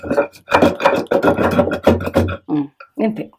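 Garlic and cumin are pounded coarsely in a mortar, a quick run of close, dull, rhythmic thuds with a grinding rasp, around a dozen strokes, then a few slower hits.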